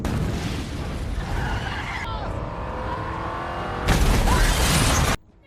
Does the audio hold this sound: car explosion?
yes